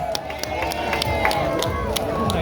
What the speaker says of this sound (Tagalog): Mahina yung palakpak ah.